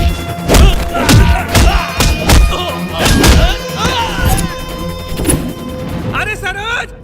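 Heavy thuds and smashing blows land in a film fight where a man is beaten with a rod, several hard impacts in quick succession amid shouting voices and music.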